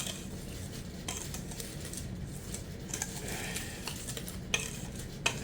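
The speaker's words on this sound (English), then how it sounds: "We're gonna stir this up real good." A utensil stirs eggless cake batter in a bowl, scraping and clacking steadily against the sides with a couple of sharper knocks near the end, quiet and close with no talking.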